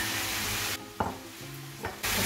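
Bacon and ground beef sizzle in a pan as they are stirred together, a close crackling hiss broken by a few scraping stirs of the utensil.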